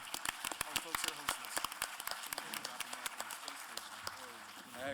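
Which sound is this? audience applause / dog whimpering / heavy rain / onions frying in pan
audience applause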